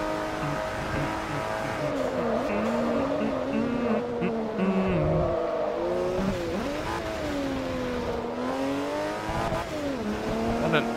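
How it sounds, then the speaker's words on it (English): A racing car engine in Forza Motorsport 3 revs and drones continuously, its pitch rising and falling through gear changes, loud and close throughout. "What an engine noise."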